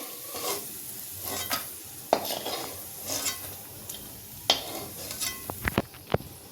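Whole spices, cinnamon and stone flower, frying in oil while goda masala is made at home: a soft steady sizzle with scattered clinks and scrapes of a utensil against the pan, a few sharp taps near the end.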